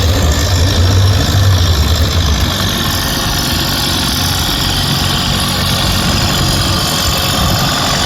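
A vintage tractor idles at a tractor pull, its heavy engine holding a steady, loud, low chugging rumble close by, slightly deeper for the first couple of seconds.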